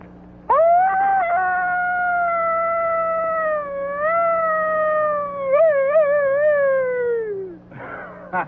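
A human voice imitates a coyote howl: one long, sustained howl lasting about seven seconds. It holds steady, wavers and warbles near the end, then slides down and fades out.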